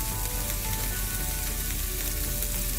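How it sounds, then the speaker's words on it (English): Thin-sliced tomato sizzling in a hot pan, a dense, steady crackling fry that stays loud and close throughout. "So that tomato is going to get toasted and wilted a little bit for extra flavor."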